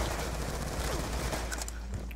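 Gunfire in Black Ops 2 video game, a dense, steady fusillade of overlapping shots forming a continuous roar with a few sharper cracks near the end.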